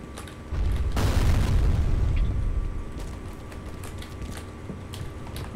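Bombs go off in a grenade combat video game set in an office: a loud booming blast that rumbles and fades over a few seconds, followed by lighter clattering and pops.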